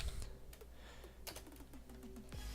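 A terminal command is typed on a computer keyboard, a quick run of close, light key clicks in an irregular rhythm, fairly quiet and with no talk.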